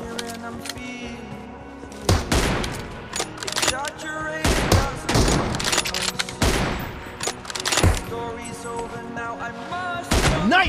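Gunfire in the mobile battle royale game PUBG Mobile, including M24 sniper rifle shots: several loud, sharp bursts of shots spaced across the clip over a busy game soundscape, with a voice faintly present.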